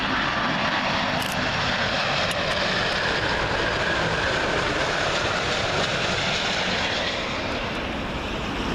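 Airliner in from Denver, Colorado, on approach to land on runway 27L at Heathrow, a loud, steady, broadband engine roar that fills the whole stretch and eases slightly toward the end, with no voices.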